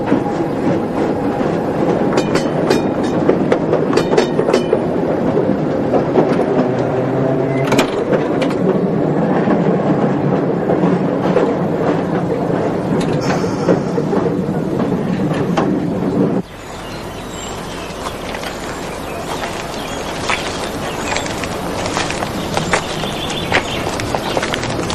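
Old railway carriages bump and rattle along the track with a loud, continuous clickety-clack and clattering, the racket easing slightly in tone partway through.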